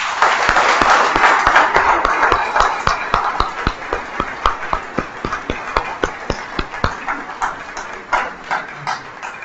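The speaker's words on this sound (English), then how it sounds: "And just now we can do that by giving them a round of applause." A church congregation claps for new members in a parish in Lochee, Dundee, opening as dense applause that thins into slower, separate claps fading out over several seconds.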